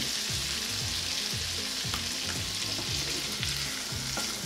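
Cream poured into a pan of Cajun-spiced chicken and shrimp, producing a loud, steady sizzle with a few soft stirring scrapes, close and unbroken with no talk.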